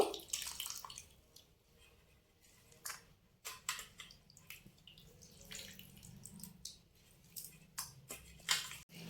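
Washed, thinly sliced snake gourd squeezed by hand, water dripping and trickling back into a bowl in soft, irregular spatters and drips, close and quiet.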